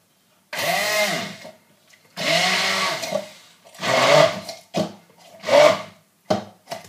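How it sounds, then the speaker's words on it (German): An immersion blender purees guacamole with parsley in five loud, close bursts of motor whir. Each burst runs about a second, with short pauses between them, and the whir shifts as the mixture thickens. "Und jetzt müsst ihr es einmal mit einem Pürierstab zu feinem Mousse verarbeiten."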